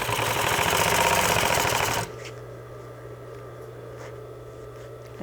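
A sewing machine stitches a French seam in fabric with a fast, steady mechanical chatter for about two seconds, then stops abruptly and leaves a low hum.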